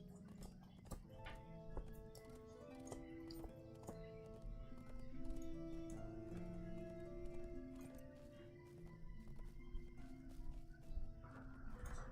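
A war steed's hooves clip-clop at a steady trot in Lord of the Rings Online, quiet and regular, with game music and effects in the background.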